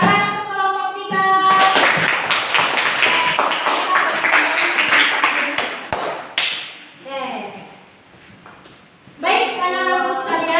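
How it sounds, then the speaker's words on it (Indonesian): A classroom applauds a student group after their peer-teaching presentation, a burst of dense clapping lasting several seconds before fading, with a teacher's voice speaking before and after it. "Terus tepuk tangan untuk kelompok 3."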